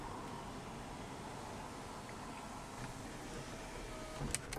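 Power sunroof motor on a 2018 Toyota 4Runner TRD Off-Road Premium, a steady low electric whir running close and continuous for several seconds, ending in a short click or thump as it stops.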